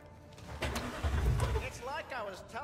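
Car engine starting in the Cyberpunk 2077 video game, a cranking catch and rising rumble heard under a man's speech, moderately loud.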